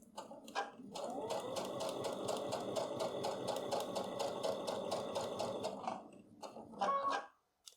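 A sewing machine stitches fabric for a lip welt pocket, a steady rapid needle rattle over a motor whir lasting about five seconds, bracketed by brief handling noises before and after, with no speech.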